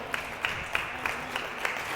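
Church congregation applauding, a steady wash of many hands clapping with sharper accents recurring about every third of a second, moderately distant and filling the room with no talk over it.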